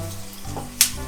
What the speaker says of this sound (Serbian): Pržim luk.